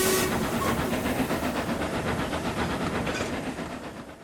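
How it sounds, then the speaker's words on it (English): Steam train whistle and steam release, a loud broadband hiss with a brief tonal whistle near the start that stays dense and continuous before easing slightly at the end. "it was swallowed by the sound of Murdoch's own whistle."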